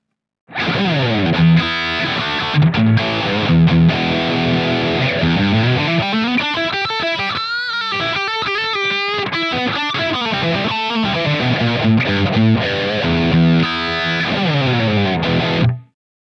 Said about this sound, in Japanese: メタル系などの激しめな歪みに合いそうな5153 M2